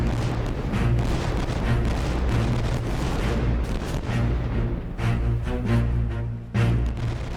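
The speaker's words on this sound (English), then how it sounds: "The gunfire starts at noon, with the French 74 Fougue firing ranging shots towards Royal Sovereign." Cannon fire from wooden sailing warships at the Battle of Trafalgar, including the French 74-gun ship Fougue firing ranging shots, heard as a dense, continuous rumble of heavy booms that swells and recedes.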